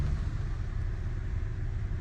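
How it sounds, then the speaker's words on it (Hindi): Heavy early-morning road traffic in Sharjah around 7:30, a steady low engine rumble from surrounding cars, continuous and moderately loud with no distinct events or talk. "इतना ट्रैफिक"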